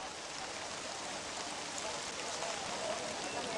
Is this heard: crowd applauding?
no